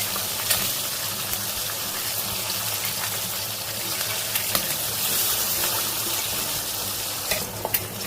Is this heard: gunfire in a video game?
no